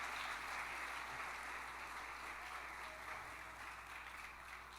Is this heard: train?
no